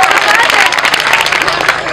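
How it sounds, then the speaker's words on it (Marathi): Loud, dense applause from a wedding crowd at a village bharud performance, continuous clapping close and full throughout, with voices mixed in. "जोरदार टाळ्या वाजवा."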